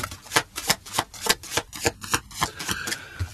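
Tarot cards are shuffled close by in a quick, even series of crisp riffling flicks, about a dozen snaps in a few seconds with no talking.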